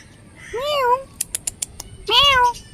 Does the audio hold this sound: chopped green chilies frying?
no